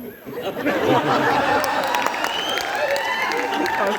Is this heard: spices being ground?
no